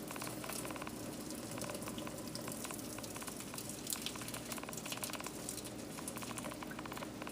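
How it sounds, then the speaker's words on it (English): Hot water drains out of a pot of boiled shrimp in a soft, continuous patter and gurgle, faint and close, with no voices. "I'm going to try to strain as much water off of them as possible."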